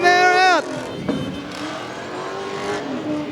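V8 utes racing on a dirt speedway track, a loud engine note climbing sharply in pitch then dropping away, followed by a steady roar of several engines under a commentator's voice.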